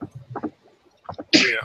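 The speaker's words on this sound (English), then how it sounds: "Did I hear sneezing?" A loud, close sneeze bursts out right after a few brief words of talk.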